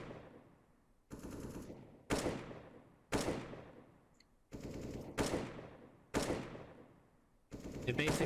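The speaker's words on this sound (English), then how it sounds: "the AK shooting sound will play" AK rifle fire in a first-person shooter plays as six or seven separate short bursts, each starting with a sharp crack and then a decaying rattle, spaced about a second apart at moderate loudness, with no voices.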